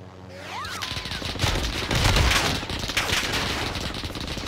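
Sustained gunfire in the Warzone video game, a dense fusillade of rapid shots that swells in the middle and carries on loud throughout, with no talk over it.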